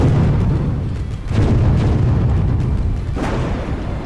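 Ship cannons in the naval game Windward firing in a dense, continuous barrage of low booms and rumbling blasts, loud and close throughout, with a sharper burst near the end and no talk.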